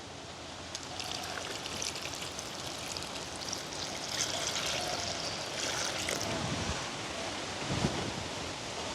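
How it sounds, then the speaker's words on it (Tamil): Water poured into a cooking pot during village-style cooking for jackfruit vada: a continuous splashing, trickling stream at close range, fairly steady with a few louder gushes. "இப்போ வந்து அளவாக தண்ணி விட்டு கொள்ளுவோம்."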